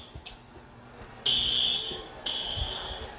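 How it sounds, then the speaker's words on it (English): A school fire alarm suddenly begins a loud, shrill electronic tone, briefly breaks, then resumes, sounding piercing and steady over a quiet indoor room. "The fire alarm's on."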